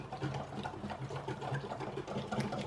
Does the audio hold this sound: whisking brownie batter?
yes